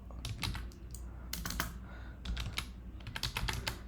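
Fingers type a PowerShell command on a computer keyboard, a close, quiet run of sharp key clicks in uneven bursts with brief pauses between words.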